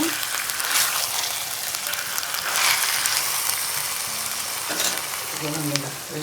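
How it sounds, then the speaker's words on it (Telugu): One kilogram of chicken and half a kilogram of liver fry in hot oil in a pot, a continuous dense sizzle broken by occasional louder stirring swishes and scrapes of the spoon. "1 kg చికెను, 1/2 kg లివర్. ఇది అక్కడ ఒక్కసారి అక్కడ తిప్పుకొని"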